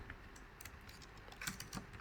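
Quiet, close keystrokes tap out a short burst of typing on a computer keyboard while Godot code is written, with irregular clicks and faint room hum.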